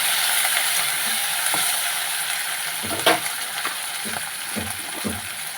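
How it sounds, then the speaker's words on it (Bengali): Hilsa fish fat and roe frying in a pan with bay leaf, a steady broadband sizzle throughout with a few clinking stirs of a spatula, no talking. "ভেজে নেব"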